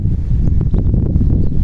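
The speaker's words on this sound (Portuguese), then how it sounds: "E tá ventando, pessoal. O vídeo vai ficar ruim." Heavy wind buffets the microphone in a constant low rumble, with occasional gusty bumps and faint rustling.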